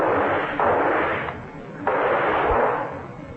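Gunshot effect in a mid-century radio horror drama, two broad booming blasts about a second apart, each with a sustained rumbling decay, loud and close with no talk over them.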